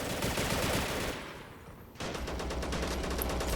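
An MG13 machine gun fires in a World War era video game, sustained rapid bursts with a brief pause before the firing resumes, loud and close.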